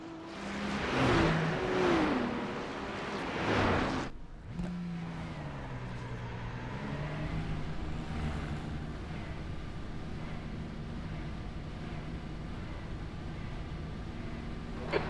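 A GT3 race car engine in a racing video game at Bathurst, revving and shifting loudly at first, then settling into a steady droning whine that rises and falls with speed, heard alone without talk.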